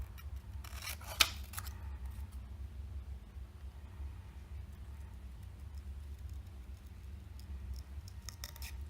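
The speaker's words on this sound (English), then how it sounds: "carefully moving the paper around slowly as you cut down with the" Scissors snipping through paper as the sheet is turned slowly for a curved cut, a close rasping cut near the start over a steady low background hum, with fainter snips returning at the end.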